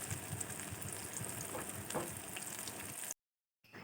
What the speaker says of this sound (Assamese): তাৰপাছত এটি এটিকৈ সৰু সৰু কৰি মই কেৰাহীত দি দিছোঁ।